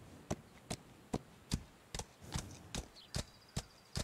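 Horse hooves from the Ostwind video game striking in a steady galloping rhythm, about ten sharp clear beats over four seconds, up close with no talking.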